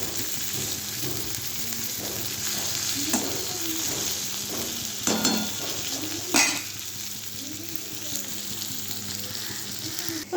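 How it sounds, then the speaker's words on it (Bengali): Pieces of pointed gourd (potol) sizzle steadily in hot oil in a pan, with soft scraping stirs and a few louder clatters of the spatula near the end; no one talks. "পটল দেওয়া হয়ে গেছে, এখন আমি একটু হালকাভাবে নেড়ে নেব।"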